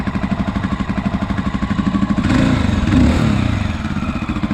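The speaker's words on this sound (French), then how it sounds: "un bon gros monocylindre à l'ancienne" A loud single-cylinder Mash 650 X motorcycle engine thumps with a slow, pulsing beat, then briefly revs up around the middle before settling back to a lumpy idle.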